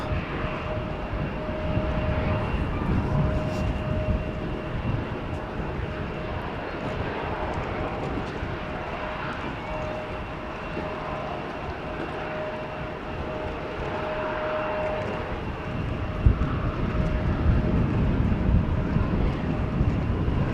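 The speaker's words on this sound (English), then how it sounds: "Right now we have an Embraer 175 lined up going to Wrocław or something" An Embraer 175 jet sits lined up on a runway at Amsterdam Schiphol, its engines giving a steady distant rumble and whine under wind noise for about twenty seconds.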